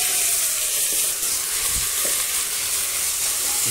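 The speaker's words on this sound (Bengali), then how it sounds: "এই যে আমাদের পেঁয়াজগুলো লাল লাল করে ভাজা হয়ে গেছে" Onions sizzle and fry steadily in hot oil while chicken biryani is being prepared, a continuous close hiss with faint stirring noises and no talking.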